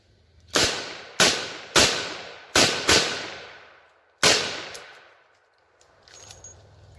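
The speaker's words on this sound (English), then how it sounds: "So let's take a few shots with it and see what it does." Smith & Wesson Model 66 revolver firing 38 Special rounds outdoors: six loud, sharp shots, five in an uneven cluster and one after a pause, each with a short ringing decay.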